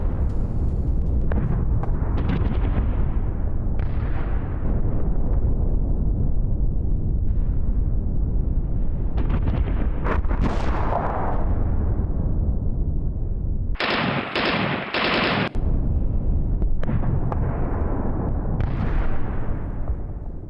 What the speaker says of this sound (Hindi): गोलियां बरसाते दिखे हमास के बंदूकधारी, वीडियो में साफ नजर आ रहा है।